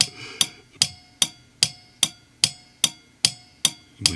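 Automotive relay repeatedly clicking in a Lisle Relay Pro 60150 tester, eleven sharp, evenly spaced clicks about every 0.4 seconds, close and loud with a short ringing decay after each.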